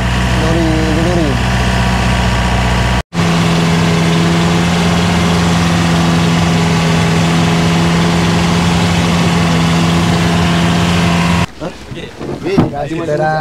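A lorry boat's engine idles with a steady, loud drone that holds for several seconds, while voices talk over it at the start and end.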